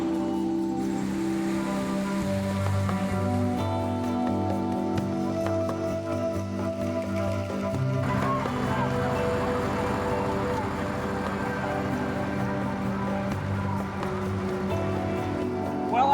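Monsoon rain pours onto a flooded downtown Bombay street, a steady wash blended with traffic, honking and a siren-like wail, with voices in the background.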